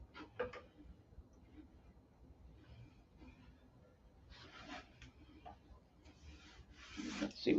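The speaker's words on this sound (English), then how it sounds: "Let's sand that one." Sanding a wooden workbench part by hand: soft, faint rubbing strokes that come and go, building into longer, louder scratchy passes toward the end, close by in a quiet room.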